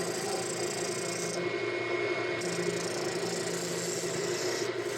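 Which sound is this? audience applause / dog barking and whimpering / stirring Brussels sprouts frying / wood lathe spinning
wood lathe spinning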